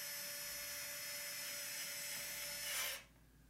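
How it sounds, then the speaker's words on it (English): An electric screwdriver whirs steadily while tightening a bolt on a conical grinder, a close, continuous motor whine that rises slightly before stopping abruptly near the end. "What I like to do with my electric screwdriver is rotate the bolt in the tightening position"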